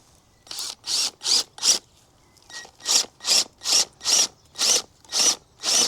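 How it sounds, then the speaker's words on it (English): Hand chisel cutting into a wooden fence strut, a steady run of about a dozen sharp, close scraping strokes in even rhythm with a brief pause partway, no talking. "So I could get the chisel and start chiseling."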